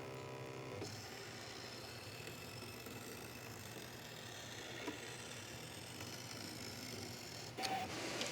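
An in-the-hoop embroidery machine cutting out material, giving a faint, steady mechanical whir that runs evenly throughout, with a small clunk near the end.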